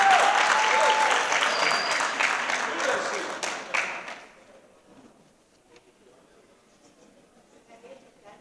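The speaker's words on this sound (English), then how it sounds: "Can we clap hands for her?" Audience applause at a youth parliament gathering in Mpumalanga, loud sustained clapping for about four seconds that then fades quickly to a quiet room murmur.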